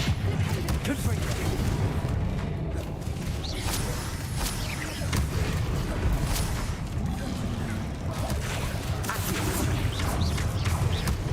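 Confringo fire spell cast during combat in the Hogwarts Legacy video game: a dense, loud, continuous wash of blasts, crackles and rumbling effects with no pause.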